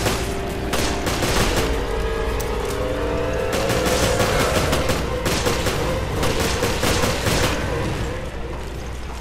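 Rapid gunfire in the video game Resident Evil: Revelations keeps going for the whole stretch, with dense bursts of shots and booming impacts over a constant loud background of game sound.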